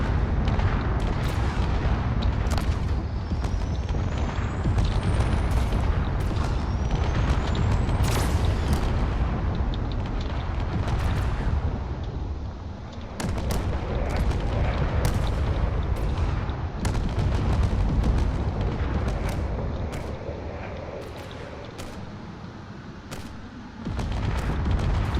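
Missiles and point defense guns firing in a space battle in the game Drone Wars: a dense, loud, continuous barrage of booms and rapid shots layered over a deep rumble, with sharp bursts throughout.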